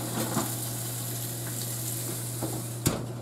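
Steak searing in a hot pan, giving a steady, close sizzle and crackle with a couple of brief louder pops and a faint low hum beneath.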